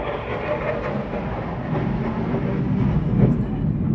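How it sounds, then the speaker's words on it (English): A jet aircraft passes overhead, a broad, heavy roar that swells steadily louder over a few seconds with no talk on top. "That was a jet flying over."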